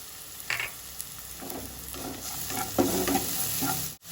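Garlic and black cumin (kalonji) frying in hot oil in a pan for a bathua greens stir-fry, a steady close sizzle broken by a few soft stirring scrapes, with no voices.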